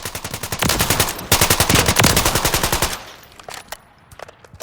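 The BS4 firing in Call of Duty Modern Warfare III: loud rapid automatic bursts of close gunfire in a steady rhythm, a short break, then another long burst that cuts off into quieter mechanical clicks.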